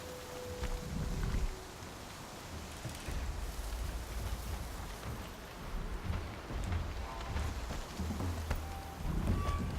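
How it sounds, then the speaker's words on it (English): Rain and thunder from a storm in the video game Horizon Zero Dawn, a steady wash of rainfall with low rumbling swells of thunder rising and fading throughout, no voices. "This storm's gonna back down before I do."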